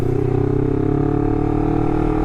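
Loud and near, a Honda CBR250RR with a WRX GP3 K2 exhaust holds a throaty, even rev whose pitch climbs gently, with no voices over it.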